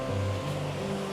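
A small waterfall on a hiking trail rushes in a steady, broad wash of falling water heard up close, with no voices.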